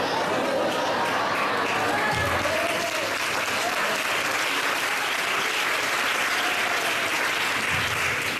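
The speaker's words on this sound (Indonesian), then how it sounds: "Ini tepuk tangan apa ini?" Congregation applauding during a Christian sermon in a church, a steady wash of many hands clapping that runs unbroken for several seconds, with faint murmuring voices mixed into the crowd noise.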